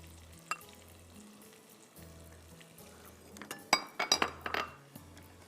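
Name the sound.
green onion leaves stir-fried for dandan noodles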